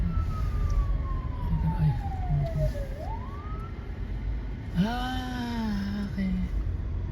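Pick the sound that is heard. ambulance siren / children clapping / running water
ambulance siren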